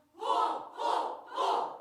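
Rows of a church health-seminar audience shout "ho ho ho" in unison, three loud group bursts in steady rhythm, close and clear with no other talk.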